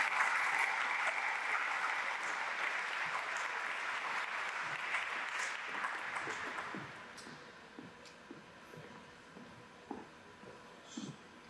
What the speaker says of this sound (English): One more round of applause for all of us.